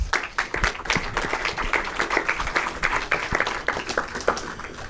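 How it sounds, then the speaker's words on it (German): An audience at a German conference talk on public broadcasting online applauds steadily, a dense, continuous patter of many hands filling the hall for several seconds. "Einen großen Applaus bitte."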